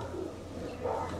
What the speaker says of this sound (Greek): Πράγματι φύγανε πολύ εκρηκτικά τα περιστέρια του.